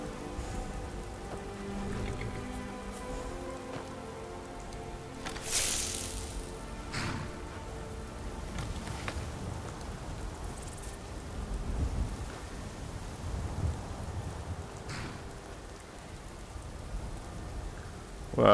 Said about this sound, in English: Wow, you hear that? Thunder and lightning.